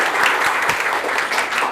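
A classroom group claps together in a short burst of dense, steady applause that stays fairly loud and close throughout.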